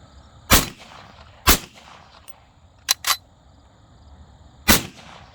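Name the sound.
Auto Ordnance M1 Carbine firing gunshots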